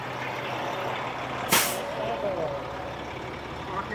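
A truck's air parking brake releases one short, sharp hiss of air over a low idling engine, followed by steady engine rumble.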